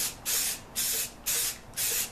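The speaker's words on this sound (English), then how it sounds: "I don't try to, you know, spray it too much in one spot, basically just a quick back and forth swipe." An aerosol spray paint can applies camouflage paint to a gun in quick back-and-forth swipes, giving four even hissing bursts of about half a second each with short gaps between them, close and steady, with no talking.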